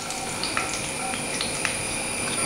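Chopped ginger and garlic sizzle in hot coconut oil while a chickpea curry is being cooked. The frying hiss stays steady and close throughout, with small crackles and pops and no talking.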